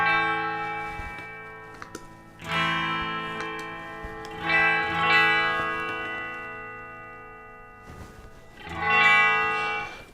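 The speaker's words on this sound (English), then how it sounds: "as you turn that up a little bit, you hear that phasery kind of sweep or that modulation sweep coming in" Electric guitar chords through a Boss DD-7 delay pedal set to its modulation mode, ringing with a slow, phasey sweep and echoing trails between three strummed swells, no talking.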